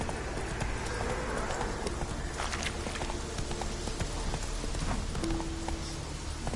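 Hooves of a galloping horse in The Witcher 3 beat in a fast, steady clip-clop, close and continuous, over a dense wash of ambient game noise resembling rain.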